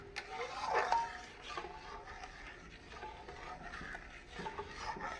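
A spoon stirs as a mixture of milk powder and jelly powder dissolved in water is poured in, giving soft scraping and swirling sounds with a brief clink near the start.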